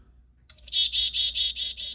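A bird clock sounds an electronic chickadee call indoors: a short onset chirp, then a run of about six rapid, even, high whistled pulses, clear and close with no talk.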